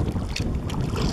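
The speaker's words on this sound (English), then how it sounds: "A little bit of wind picking up now." Outdoor wind gusting steadily beside a kayak near water, a continuous broadband rush and buffeting against the microphone with no voices.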